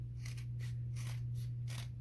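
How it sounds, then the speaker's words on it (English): Scissors cut through a thick stack of paper in several slow, rhythmic crunching snips, close and distinct, over a low steady electrical hum. "you want a pair of scissors that are going to really be able to get through all those papers"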